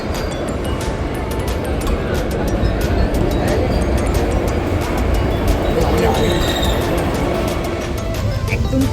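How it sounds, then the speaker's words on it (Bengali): A Vande Bharat express train runs on its journey to Ayodhya, giving a loud continuous rumble with rhythmic clatter as heard from inside the coach. "একদম কারেক্ট টাইমে আমাদের ট্রেন ছেড়ে দিয়েছে"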